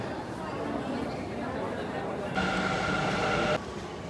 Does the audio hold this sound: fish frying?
no